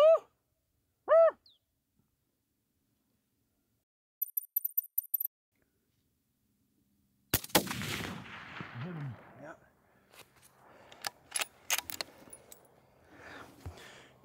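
Rifle gunshot fired while hunting coyote on a South Dakota hill, a single sharp loud crack after near silence, followed by rustling, movement and voices talking.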